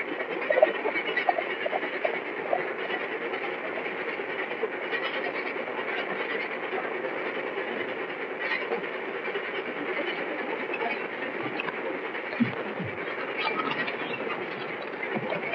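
A train rolls along the rails in a steady, continuous rumble with faint clickety-clack, heard up close from inside for the whole stretch, without talk.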